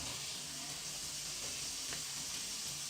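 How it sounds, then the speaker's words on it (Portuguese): Butter melts in a pan with a steady, soft, hissing sizzle, faint and continuous with no voices. "está derretendo a manteiga"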